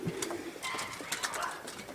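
Pigeons in a racing pigeon loft coo softly amid rustling and faint clatter, fairly quiet and close, with no clear talk.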